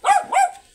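A dog gives two quick, sharp barks close by, each short and bright, with a brief gap between them and a faint tail at the end.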